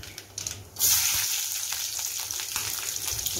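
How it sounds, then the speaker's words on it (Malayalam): Mustard seeds sputter and crackle in hot oil for a prawn curry tempering, a bright, steady sizzle that bursts in loudly partway through and keeps popping close up, with no talking. "കടുക് നന്നായിട്ട് പൊട്ടിയിട്ടുണ്ട്."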